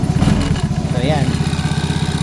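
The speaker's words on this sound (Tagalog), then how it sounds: "Kaya napapagana ko yung motor ko ng walang susi." A Vespa scooter engine runs without a key, a close, loud, rhythmic mid-pitched putter idling steadily, with a brief tonal whine partway through.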